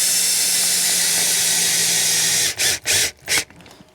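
Power drill driving screws into wood on an RV station build, a steady close whine for a couple of seconds, then several short separate bursts as the trigger is pulsed.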